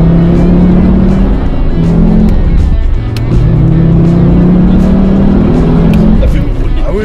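An old diesel car set up for low-budget drifting revs hard and repeatedly, the engine note climbing and dropping in rising strained surges, loud and close, with a brief dip midway and smoke-heavy throttle bursts.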